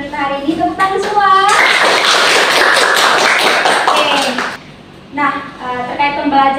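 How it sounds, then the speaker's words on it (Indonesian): A class of students in an Indonesian school lesson claps together in a loud, dense burst lasting about three seconds. A teacher's voice is heard before and after the clapping. "Tepuk tangan semua."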